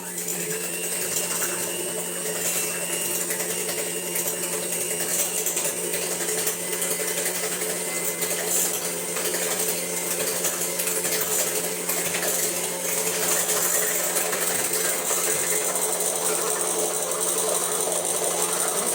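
An electric hand mixer beats batter for basbousa and cake in a home kitchen, its motor buzzing loud and steady for the whole stretch, with a rattling, whirring texture close by and no talking.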